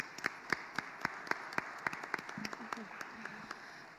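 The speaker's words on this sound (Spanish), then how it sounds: "Démosle un aplauso, un caluroso aplauso a la doctora Elisa" Scattered, sparse hand claps from a small audience for a speaker at an academic talk, about a dozen distinct claps in an uneven rhythm, fairly quiet, with faint voices murmuring near the end.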